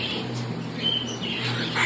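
A red factor African Grey parrot gives a short, faint squawk and chirp over a steady background hum, close by indoors, with no talk.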